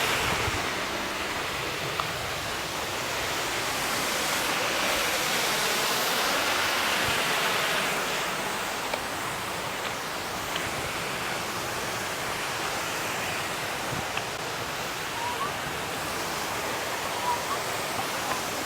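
Kilgore Falls in Maryland rushing steadily, a broad continuous roar of falling water close by, with occasional faint voices of hikers beneath it.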